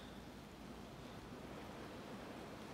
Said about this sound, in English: it is windy out there